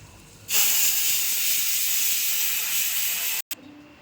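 Marinated fish pieces drop into hot oil, bursting into a loud, steady frying sizzle that continues evenly, with a brief dropout near the end.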